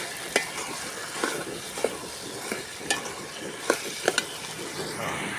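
Brinjal and raw banana sautéing in a pan in a village kitchen, a constant soft sizzle with spoon scrapes at uneven intervals, close and moderate in level, with no voices.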